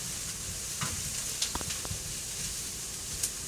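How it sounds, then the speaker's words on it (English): Lentils and cauliflower frying in high-temperature olive oil, giving a continuous quiet sizzle with a few soft stirring scrapes and clicks, with no voices. "Cooking those in some high temperature olive oil."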